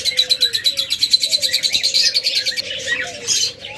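Young adult diamond doves kept for sale, giving a rapid, steady series of bright chirping calls close by, with a soft tonal coo running underneath and no talk.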